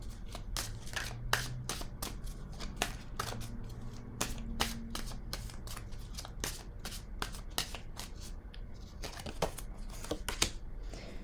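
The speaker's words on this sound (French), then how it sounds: "Je vais déposer maintenant une carte, un message de l'univers pour cette personne que je rencontre." Oracle cards are shuffled and laid down in quick, crisp bursts of riffling and flicking, close and repeated throughout with brief pauses between strokes.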